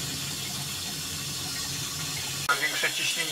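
A toilet cistern refills after a water-main failure, a steady hiss of rushing water that cuts off abruptly near the end, followed by a few gurgles and drips, with someone speaking over the tail.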